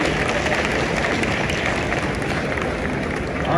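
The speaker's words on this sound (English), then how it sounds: "Let's give this panel a round of applause." Audience applause for a panel discussion at a broadcast industry show in New York, a dense sustained wash of many hands clapping together without a break.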